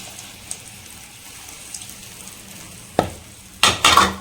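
Tamarind water hits a pan of fish gravy: a quiet simmer, then a sharp burst of sizzling and stirring toward the end, close and loud.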